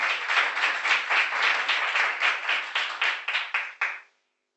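Audience at an Amway event applauding platinum achievers, brisk clapping in an even rhythm that thins into a few separate claps before stopping abruptly.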